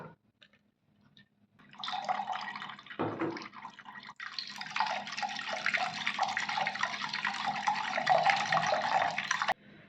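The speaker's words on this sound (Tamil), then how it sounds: "இதில் கொஞ்சம் தண்ணி ஊற்றி நல்லா இதை வடிகட்டி எடுத்துக்கலாம்" Water pours steadily over a finely ground paste in a strainer for Diwali leaf pakoda batter, a continuous splashing, trickling stream close by that starts after a brief quiet and runs for several seconds before stopping.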